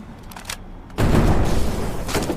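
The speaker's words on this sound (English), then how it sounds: "It just calls us in like a tactical airstrike" Missile airstrike explosions in the video game Synthetic Man: after a quiet stretch, a sudden loud, dense burst of booming blasts erupts and rumbles on without pause, like a rapid barrage.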